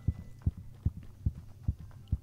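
Heartbeat sound effect in a Roblox horror game, six steady low thumps at a regular, fairly quick pace, isolated and moderately loud with a faint hum between beats.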